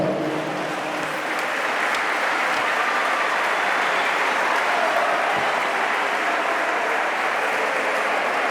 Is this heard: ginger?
no